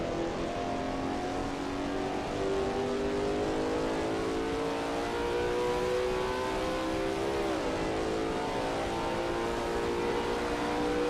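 Lola T70 MkII Spyder race car in a racing game at Österreichring, its engine droning loud and steady as it climbs in pitch, with a brief dip near the end before pulling on again.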